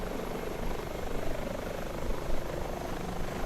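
Airbus H145 helicopter in the MSFS 2020 flight simulator with both engines at idle, a steady whining turbine hum and even rotor thrum, constant and fairly close with no talk.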